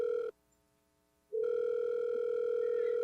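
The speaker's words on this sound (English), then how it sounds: "Silence follows while I wait for her to pick up, the ringing going far too long for my tastes" A telephone line rings with a steady electronic tone that cuts off for about a second of silence and then resumes, loud and close, with no voices.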